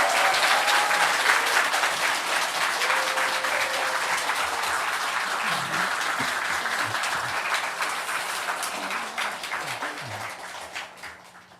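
Church congregation at a Sunday worship service applauding to welcome their pastor, a sustained, dense round of clapping that fills the room and slowly tapers off toward the end.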